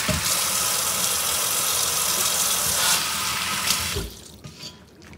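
Running tap water splashes steadily into a bowl as grains are washed and left to soak, then stops, leaving quieter dripping and faint handling sounds.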